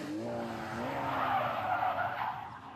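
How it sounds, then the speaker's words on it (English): Tires squeal loudly as a car skids into an almost complete 360-degree spin on a driving course after the gas is hit instead of the brake, a sustained screech with engine rumble and no talk. "he hit the gas pedal instead of the brake, causing an almost complete 360"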